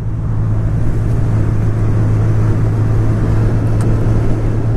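A 2019 Honda CB1000R Plus motorcycle being ridden, its engine a steady low droning hum with a strong tonal rumble beneath broad wind rush, loud and continuous at constant speed with no voices.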